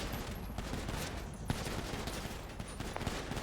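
GTA V roleplay gunfire rattles as a dense, moderately loud fusillade of shots over steady background noise, with one sharper crack standing out and no speech.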